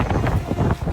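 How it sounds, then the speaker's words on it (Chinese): Strong gusts of wind in a snowstorm batter a construction site with tents, producing a loud, buffeting roar against the microphone. "哇，好大风！"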